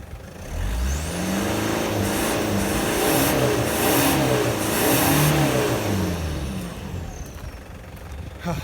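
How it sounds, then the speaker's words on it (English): A Toyota 1KZ diesel engine is revved hard and held high for several seconds, a loud, continuous roar that swells and eases slightly before dropping back. "I'm going to give it a bit more of an aggressive rev to 4"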